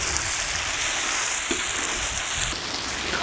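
Borscht dressing fries in a kazan with a steady, dense sizzle that fills the whole stretch, close and loud, with a faint stir or scrape near the middle and no talking.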